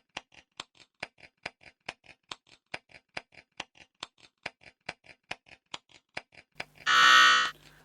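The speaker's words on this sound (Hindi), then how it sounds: "सेंट मैथ्यू ने बजर पहले दबाया" A quiz buzzer at a family Bible quiz sounds as one loud, sustained electronic buzz near the end, after a steady run of sharp ticking clicks like a countdown timer.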